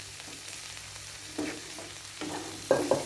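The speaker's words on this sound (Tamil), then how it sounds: "இதையும் இந்த மசாலாவோட நல்லா மிக்ஸ் பண்ணிக்கலாம்" Boiled green lima beans being stirred into frying masala in a pan, a soft steady sizzle with a few louder spoon scrapes toward the end, nearby and without talk.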